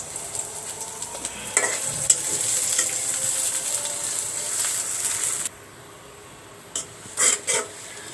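Onions frying in mustard oil for a banana blossom chorchori, giving a steady close sizzle that cuts off abruptly partway through, followed by a few short stirring scrapes in the pan.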